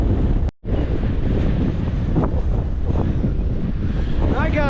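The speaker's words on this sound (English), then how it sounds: "It's a wicked wind, that, guys." Strong seaside wind in Fleetwood, UK, buffets the microphone in a loud continuous rumble with a brief dropout near the start. Surf sounds faintly beneath it on a sea fishing outing.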